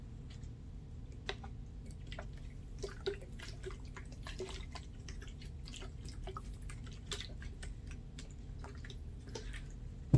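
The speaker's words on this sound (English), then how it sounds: "So I'm gonna put some water on it now." Water is applied to the tacky surface of a cured resin art piece with a temporary tattoo, making soft, steady dripping and trickling sounds with a few small splashes over a constant low background hum.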